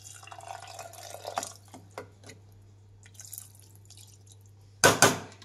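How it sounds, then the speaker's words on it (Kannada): Water is poured into a pan of mixed sprouts in a home kitchen, giving a few scattered drips and trickles that end in a short, louder splashing pour, with quiet pauses between them. "ಈಗ ನೀರು ಹಾಕ್ತಾಯಿದ್ದೀನಿ"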